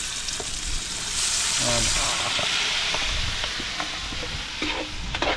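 Tapa adobo sautéing in a pan outdoors, a continuous loud sizzle with stirring scrapes and hissing steam, and a brief spoken word over it.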